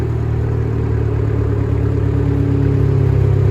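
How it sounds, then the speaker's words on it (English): An Abarth 595 fitted with a Toyo catback exhaust settles from a cold start into idle, giving a steady, loud, close low rumble with an even drone throughout and no talking. "the cold start is starting to drop down now into the idle"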